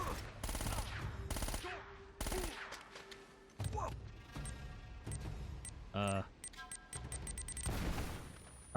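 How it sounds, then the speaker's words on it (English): Gunfire in Uncharted: Drake's Fortune: loud, clustered bursts and single shots from an enemy firing at the player, with sharp cracks and short gaps between volleys, and a voice faintly audible between them. "Who's shooting me from over there?"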